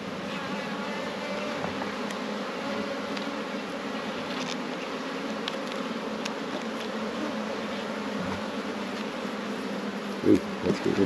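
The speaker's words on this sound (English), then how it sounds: "And you can always tell the drones because they're so big." Honey bees, both drones and workers, buzz around a hive in a continuous, dense, moderately quiet hum, with a few soft knocks at the end.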